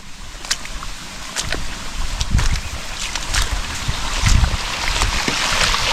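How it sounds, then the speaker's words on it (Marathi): Outdoor water flows continuously with a steady rushing wash and scattered splashes and gurgles, close and moderately loud, with no voices. "आता ह्या पाण्याचा आवाज"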